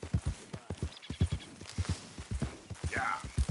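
Horse hooves clip-clop in Red Dead Redemption 2, a steady walking rhythm of hollow knocks close by, with a brief whinny-like cry near the end.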